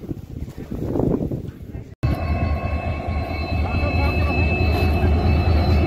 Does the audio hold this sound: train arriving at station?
yes